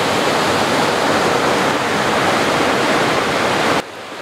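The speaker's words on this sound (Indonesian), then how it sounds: "Itu kayak ada air terjun gitu." A mountain river tumbles down a small waterfall beside a villa complex in the hills, a loud, dense and unbroken rush of water that drops sharply in level near the end.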